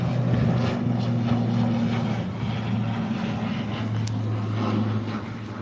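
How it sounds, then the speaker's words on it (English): Propeller airplane passing overhead outdoors, a steady droning engine hum with a low tonal buzz that holds at even loudness throughout, fairly close and unaccompanied by talk. "Plane just flew by."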